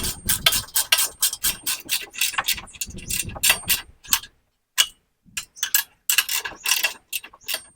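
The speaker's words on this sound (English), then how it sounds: "Now I've got to tighten these bottom bolts" Bottom bolts being tightened on a 2023 Kioti RX7320 tractor during an upgrade, a rapid series of metallic ratchet clicks in bursts with short pauses between, close and fairly loud.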